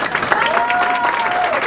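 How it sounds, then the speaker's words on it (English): Brief, steady applause from an audience at a peace and justice center gathering, dense clapping at even loudness with a faint tonal whistle-like sound running through the middle. "let's give a big round of applause to our presenters"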